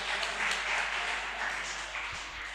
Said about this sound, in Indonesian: Tepuk tangan dong buat kalian semua